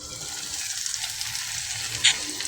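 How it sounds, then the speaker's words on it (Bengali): Cut potatoes being stirred and sautéed with spices in a pan after a splash of water, a soft continuous sizzle with light stirring and a brief sharper scrape near the end. "কেটে রাখা আলুটা নেড়ে চেড়ে মশলার সাথে মিশিয়ে তারপর একটু কষিয়ে নিব ঢেকে"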